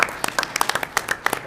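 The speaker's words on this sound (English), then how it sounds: "I'd like for us to please give her a round of applause" Audience at a school district board meeting claps for a retiring staff member, a brief close burst of distinct individual hand claps in an uneven patter.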